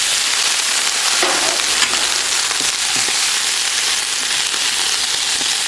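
Water splashed into a hot wok with chilies bursts into a loud, dense sizzle that continues steadily, with sharp crackles and pops throughout.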